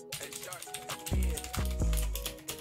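Clicky keys on a newly unboxed keyboard clatter in a quick, uneven burst, close and crisp, with a few heavier thocks as typing speeds up; someone talks over it.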